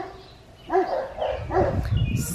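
A few barks from neighbors' dogs carry across a spring garden, two or three rounded woofs at moderate distance over a low background rumble, with no one speaking.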